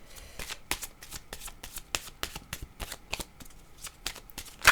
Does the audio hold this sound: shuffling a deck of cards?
yes